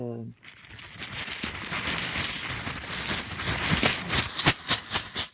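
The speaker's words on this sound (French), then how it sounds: "je mélange la dernière avec les autres" Small rune stones are shuffled and mixed together by hand, giving a steady close clatter and rustle that builds to several sharper clicks near the end.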